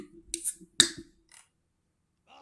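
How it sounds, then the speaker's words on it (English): A drink can being opened close by, with a sharp snap and brief fizz, a second crisp click, then near silence. "Sorry, opening up a drink."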